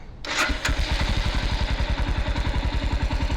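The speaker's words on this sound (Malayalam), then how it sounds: "ഇതാണ് സ്ക്രാം 440യുടെ ശബ്ദം വരുന്നത്." A Royal Enfield Scram 440 motorcycle starts with a quick crank, then settles into a loud, close, evenly thumping idle with a mechanical clatter.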